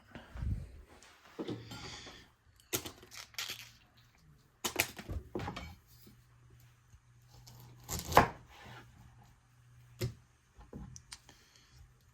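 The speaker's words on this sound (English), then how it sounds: "All right, Brussels are chopped." Brussels sprouts being chopped on a cutting board at home, a scattered run of sharp knife knocks and clicks at moderate distance, with a low steady hum underneath and no talking.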